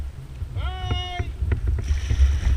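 Wind buffets the microphone on Lake Britton during a kayak outing on a heavily modified Intex K2 Excursion Pro, a loud low rumble throughout, with a voice speaking briefly mid-clip and paddle or hull knocks.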